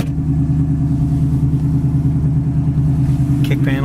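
A restored 1968 Ford Mustang convertible idles steadily, a loud, close, even low rumble with a regular pulsing throb, while someone speaks over it near the end.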